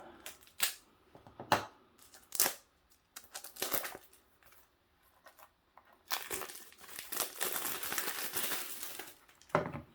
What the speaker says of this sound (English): oh, there's more plastic. Hang on. Let me just cut this open.